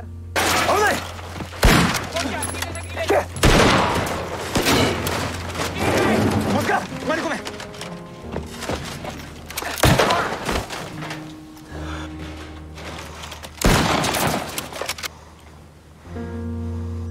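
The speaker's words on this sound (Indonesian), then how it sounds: "Hingga muncul tembakan dari belakang." Loud bursts of gunfire crack out in scattered volleys over a low droning hum, with sharp reports and thuds spread across the stretch.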